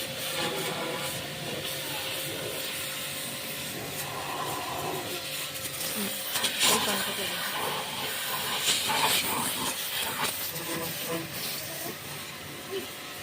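A compact home-use mini water service pressure washer sprays steadily while cleaning chairs, giving a continuous loud hiss with slight surges, close by and with no talk over it.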